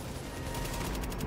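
Rapid automatic gunfire bursts fill a firefight in The Division video game, fairly quiet and continuous in a dense stream of shots.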